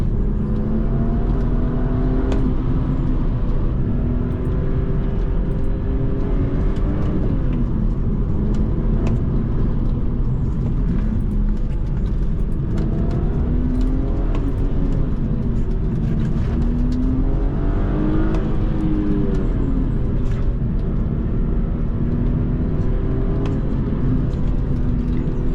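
A BMW 128i 1 Series, a car of about 3,100 pounds, accelerates and revs hard. Its loud, continuous engine note sweeps up and down through several pulls, with no talking over it.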